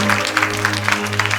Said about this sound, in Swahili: Mshangilie tena Yesu kwa makofi mengi.